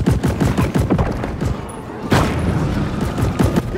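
Rapid bursts of gunfire and heavy thumps from the Deep Rock Galactic video game, dense and loud throughout with a big boom midway, set in the Plaguefall mission.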